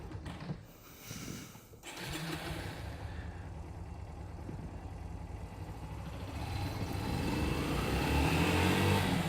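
A Yamaha YBR 125 motorcycle pulls away from a standstill, its small engine note building steadily and growing louder toward the end, heard close by outdoors.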